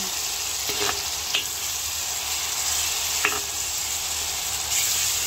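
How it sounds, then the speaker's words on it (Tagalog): Ingredients for laing sauté in a large pan with a constant bright sizzle, broken by a few short scraping strokes of stirring, close up and with no talking. "At kanya pong ipiniprito. Kanya na pong ginigisa. Akin lang pong hahaluin."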